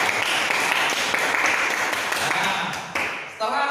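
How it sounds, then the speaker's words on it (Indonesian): A classroom of students claps for a classmate, a dense burst of hand claps that stays steady and then tapers off near the end. "Beri tepuk tangan dulu buat Fari."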